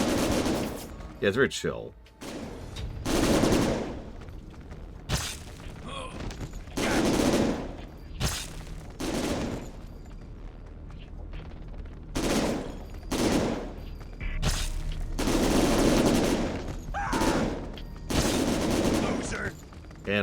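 Repeated bursts of gunfire crack and rattle in the video game Syphon Filter: Dark Mirror, punctuated by explosive booms, while a man chats casually over the action.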